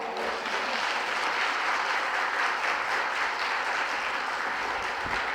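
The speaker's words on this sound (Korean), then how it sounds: "우리 진짜 따뜻한 박수로 목사님을 강단에 초대하겠습니다" Warm applause from a church congregation welcoming a visiting pastor to the pulpit at a Friday service, dense sustained clapping filling the room evenly throughout.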